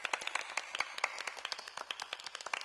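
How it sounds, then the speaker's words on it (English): An audience claps steadily in a fast, dense patter of hand claps, faint and fairly distant, with no voices over it. "Stop! Stop clapping!"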